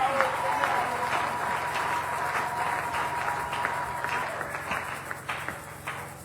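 A church congregation applauds Jesus, with dense, sustained clapping throughout and a few voices mixed in, loud and close, the claps thinning into scattered sharper hits near the end.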